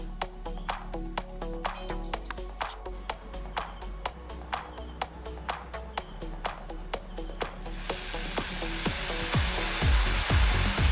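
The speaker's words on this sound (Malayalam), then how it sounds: "ആദ്യം നമുക്ക് പാലൊന്ന് തിളപ്പിച്ചെടുക്കാം" Milk heats in a pan with a soft, steady sizzle and faint bubbling, swelling into a louder rushing boil toward the end.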